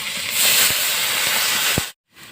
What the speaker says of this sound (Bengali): আমি ওপর দিয়ে জল দিয়ে দিচ্ছি